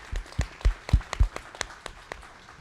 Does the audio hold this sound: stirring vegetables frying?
no